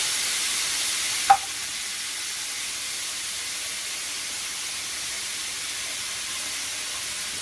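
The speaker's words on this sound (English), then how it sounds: "we're going to let them sear in the hot pan in the brown butter sauce with sage" Scallops sear in a hot pan of brown butter sauce with sage, a soft continuous sizzle and hiss with a single brief clink near the start, no talking.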